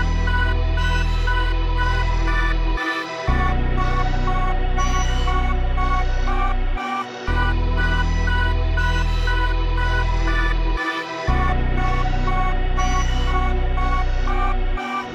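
A dark pad run through a shaper box 8th pan arp preset, layered with a synth lead and heavy low bass in FL Studio, plays in a loud, dense loop with brief rhythmic dropouts every few seconds and no voices.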